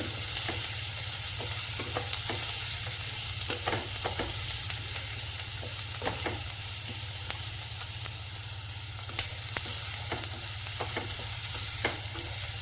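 Onions fry in a little ghee for a mixed vegetable paneer paratha, with a steady, loud sizzle throughout and a spoon stirring and scraping the pan at irregular intervals.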